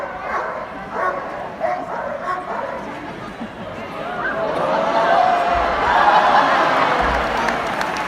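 Police dogs barking and yipping at Crufts in a busy arena, excited barks over crowd noise and a loudspeaker voice talking throughout.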